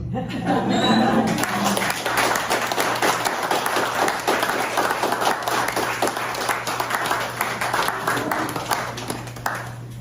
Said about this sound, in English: They weren't through clapping for you when you left.